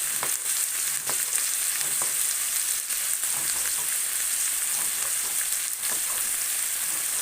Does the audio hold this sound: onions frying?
yes